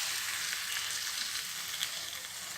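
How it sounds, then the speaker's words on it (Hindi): Boiled moong dal hitting hot masala in a pan as jackfruit and mung dal curry cooks, giving a steady, bright sizzle with crackling spits that runs evenly throughout, no voices heard. "हमारा बॉईल हुआ दाल ऐड कर लेते हैं।"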